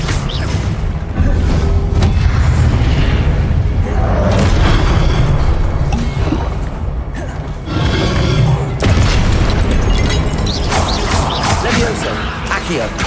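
Repeated Confringo spell explosions in the video game Hogwarts Legacy, heavy booming blasts and crashing debris in bursts over several seconds, with a voice shouting spell names over them.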